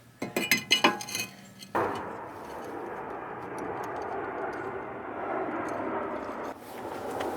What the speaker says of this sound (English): Starting with putting the rotor back on.